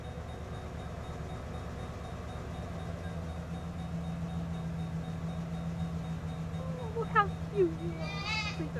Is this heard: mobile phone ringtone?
no